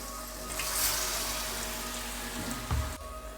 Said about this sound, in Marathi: डायरेक्टली कढईमध्ये तळून घेऊ।